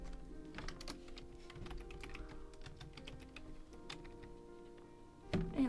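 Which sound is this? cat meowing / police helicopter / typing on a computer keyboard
typing on a computer keyboard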